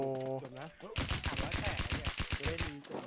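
Rapid automatic gunfire in the shooting game FreeKickZ, a loud, close burst of evenly spaced shots lasting about two seconds after a short musical tone.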